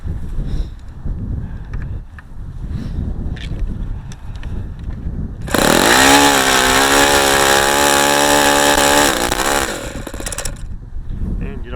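A running ASP FS65 model engine bursts in partway through, a loud, close, steady high-pitched buzz with a slight rise and fall in pitch, then cuts off and leaves quieter background noise.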